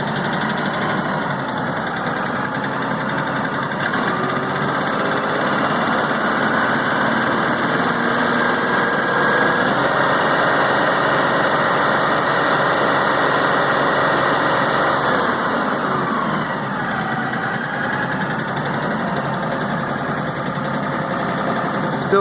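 An XR 4155 LS tractor engine that is missing on a cylinder is throttled up, giving a loud, continuous, rough mechanical drone with rising and falling revs over about twenty seconds.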